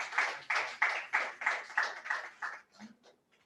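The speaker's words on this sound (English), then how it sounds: "A round of applause for her." About eight rhythmic bursts of clapping from a small audience at a Nigerian environmental policy project dissemination event, fairly faint and regular, tapering off into scattered claps.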